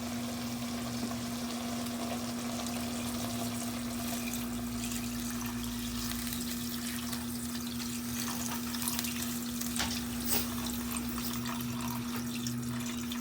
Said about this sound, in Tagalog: Lagyan natin ng tubig mga lods.